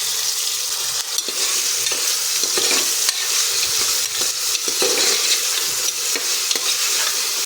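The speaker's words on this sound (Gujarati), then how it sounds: "બટાકા ઉમેરીને બધું સરસ આપણે અહીંયા સાતળી લઈશું" Potatoes, tomatoes and garlic sauté in a pressure cooker for a papdi vegetable dish, with continuous loud sizzling and intermittent scraping strokes of a stirring spoon.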